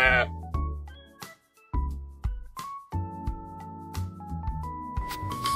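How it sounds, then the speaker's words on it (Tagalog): Sheep bleat repeatedly at Qingjing Farm in Taiwan, several loud, wavering calls overlapping one another at close range with short pauses between, and no talking. "ang pagpapakain ng mga sheep"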